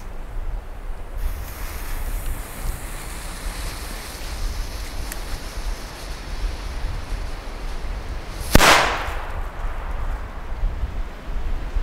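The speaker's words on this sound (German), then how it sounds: "So, als nächstes Diamond D-Böller." Late in the clip, a Diamond D-Böller firecracker explodes in one sharp, powerful bang that rings out briefly over a breezy outdoor background.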